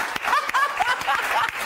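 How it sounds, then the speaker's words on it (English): A studio audience on a radio-style chat show claps in a brief burst of applause, uneven and fairly light, with voices talking and a chuckle over it. "round of applause for that one thing"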